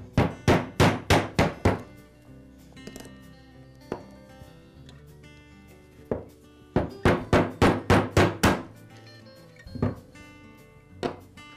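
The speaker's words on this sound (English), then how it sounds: "I'll insert a screwdriver through the bearing opening and against the seal, and tap the seal out with a mallet" A mallet strikes a screwdriver to knock a bearing seal out of an Echo trimmer crankcase that holds a 6201 ball bearing. It comes as sharp, close, hard taps in quick rhythmic runs of five or six, with short pauses and a few single knocks between.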